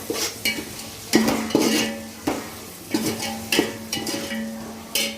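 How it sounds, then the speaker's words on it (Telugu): Ginger garlic paste fries in a pan for pulao with spices, a soft sizzle running beneath repeated scraping and clinking strokes of a spoon stirring against the metal. "ఇప్పుడు అల్లం వెల్లుల్లి పేస్ట్ వేసుకున్నాం. బాగా వేగనిద్దాం."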